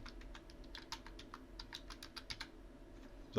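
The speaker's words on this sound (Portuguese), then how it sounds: "Então, nome, vou digitar aqui Alex, pessoa física" Quick, light keystrokes on a computer keyboard while a name is entered into a form, an irregular run of soft clicks close by, ending in a brief louder thump, with no talking.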